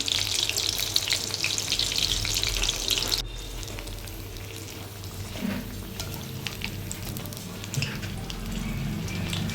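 Banana flower fritters fry in oil on low heat, a steady loud sizzle that suddenly drops to a quieter bubbling hiss midway, with faint stirring noises.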